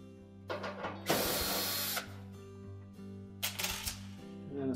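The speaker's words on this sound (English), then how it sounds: "Remove three screws across the bottom of that panel." A power screwdriver or drill backs out screws from the rear panel of a Frigidaire oven/range, two bursts of whirring with a ratcheting, mechanical edge, fairly close and quiet, with a steady hum underneath.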